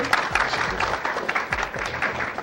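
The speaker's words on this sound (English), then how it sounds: "People still clapping for this?" A seminar audience keeps up a brief round of clapping, a dense, moderately loud patter that stays fairly even with a few stronger claps.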